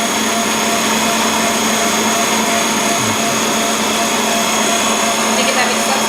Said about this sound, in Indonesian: Ini kita mixer sampai mengembang